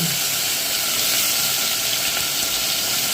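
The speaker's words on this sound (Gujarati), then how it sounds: "હવે આપણે જે આ પપૈયા મરચાં સુધારેલો છે તેને આપણે વઘાર કરી લેશું ખમકારો બોલાવી દેશું" Chopped papaya and chillies dropped into hot oil for a tempering, giving a loud, continuous, close-up sizzling hiss that holds steady for the whole stretch with no voices.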